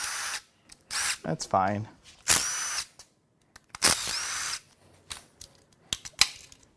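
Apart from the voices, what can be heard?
power tool unbolting a BMW S63 V8 engine chain tensioner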